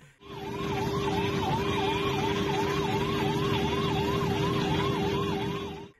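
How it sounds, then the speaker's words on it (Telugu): An ambulance siren wails loudly and steadily in a fast rising-and-falling pattern over a low rumble of traffic and engine noise. "వెనుక అంబులెన్స్ సైరన్ వినబడ్డా కూడా లెక్క చేయకుండా పోతాండులా సైడ్ ఇవ్వకుండా"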